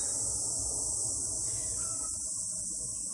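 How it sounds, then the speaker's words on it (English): Cicadas sing in a steady, high-pitched drone that fills the background throughout, with no talking, in a quiet outdoor setting. "these beautiful cicadas start to sing"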